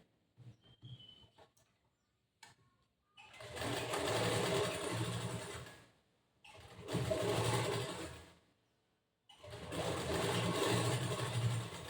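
A sewing machine stitches a boat neck blouse in three long steady runs separated by short pauses, with small handling clicks before the first run.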